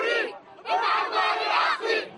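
A large crowd chants in unison in Tripoli's Green Square, loud rhythmic shouted phrases rising and falling in waves with brief pauses between.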